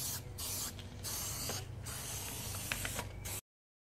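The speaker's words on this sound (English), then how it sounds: "you just want to protect where against other places from overspray and spray out the wheel." Steady hissing spray from an aerosol can of paint onto a Holden VZ Commodore wheel, continuous for several seconds, close up, with faint rattles and scrapes, then stopping abruptly.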